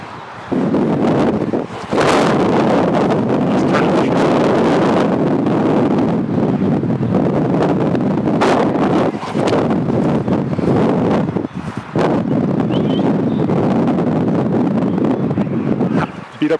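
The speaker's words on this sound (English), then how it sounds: "And it's windy." Strong wind blows across an open disc golf course, a loud, continuous roar of wind buffeting the microphone that surges and dips for the whole stretch.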